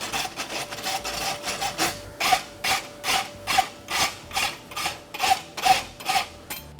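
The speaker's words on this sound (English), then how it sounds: "This is a case of rasping it up" A steel horseshoe bar is rasped in a vise, each long push stroke giving a loud, rough scraping in a steady rhythm, about a dozen strokes in a row with no talking.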